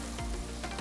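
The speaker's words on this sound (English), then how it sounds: "So we're gonna cook this until the onions are limp." Onions, peppers, garlic and paprika sizzle in a pan, a steady close frying hiss with faint stirring scrapes breaking through twice.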